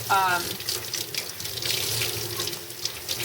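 A steady, close stream of cold tap water runs over wet felted wool at a sink, a continuous splashing hiss with no breaks.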